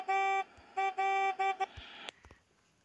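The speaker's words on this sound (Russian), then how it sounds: "И вот так она, кстати, бибикает." Car horn in the video game Chicken Gun honks four times in quick, uneven bursts, loud and close, followed by a short clunk and fading noise.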